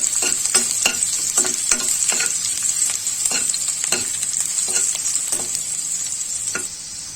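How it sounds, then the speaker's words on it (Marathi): Garlic sizzles steadily in hot oil in a pan for a sprouts curry, with a constant bright frying hiss and a regular series of soft stirring scrapes. "पहिली आपण त्याच्यामध्ये लसूण घालूया. लसूण हलकी भाजून घ्यायची."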